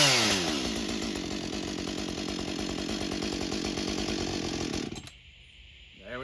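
A Husqvarna 562 XP chainsaw engine runs at fast idle, a loud steady buzzing drone close up for about five seconds before cutting out abruptly, then a faint restart near the end.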